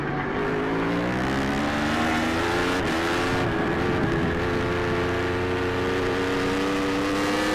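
A bunched pack of Formula Pacific racing motorcycles accelerates hard on an AFM racetrack, engines wailing loudly and steadily, with overlapping tones climbing in pitch through gear changes.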